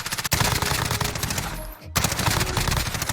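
Rapid automatic gunfire from a video game shooter rattles in dense bursts, loud and close, with a short break before the shooting resumes.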